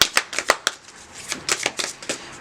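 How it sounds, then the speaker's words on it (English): Oracle cards are shuffled by hand close up, a quick run of crisp papery riffles and slaps in uneven bursts with a brief lull in the middle, heard alone without talking. "One more shuffle."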